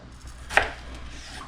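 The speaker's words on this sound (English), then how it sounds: "I just start by cutting them in length and then just cutting them into a nice manageable, kind of almost a steak fry kind of size" A single knife chop through Yukon Gold potatoes being cut into chips, one crisp thud against the board amid quiet near-silence.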